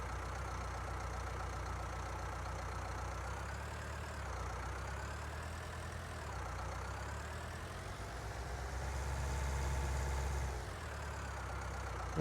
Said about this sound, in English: This tractor seems to tow it just fine though